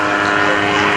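An autogyro with an unpowered, backward-tilted rotor flying by at Rotorfest, heard as a loud, steady buzzing engine drone that holds close and continuous for a brief moment.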